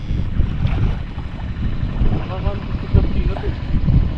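Wind buffeting a microphone aboard a small boat on open water while chasing large snakehead fish, a low, continuous rumbling roar with gusty swells, and faint voices mixed in.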